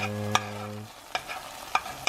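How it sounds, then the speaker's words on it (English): Vegan egg is scrambled in a pan with a spoon, a soft sizzle under a few distinct spoon taps and scrapes against the pan, close and moderately quiet, no speech. "I'm going to scramble it with my spoon here"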